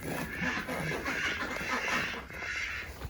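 Loud, continuous chorus of ducks calling nearby on a homestead in freezing winter, overlapping quacks and clucks with no break, layered over a steady outdoor background.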